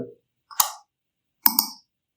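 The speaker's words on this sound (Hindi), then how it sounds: "देखिए माउस क्लिक का यहाँ पे देखिए साउंड इफेक्ट आ गया" A mouse click sound effect from Filmora's stock audio library plays as two crisp double clicks, each a quick pair of sharp taps, separated by silence.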